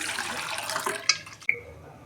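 Boiled dal pouring out of a pressure cooker in a steady watery gush for about a second, tapering off with a couple of splashy knocks and a brief ringing clink at the end.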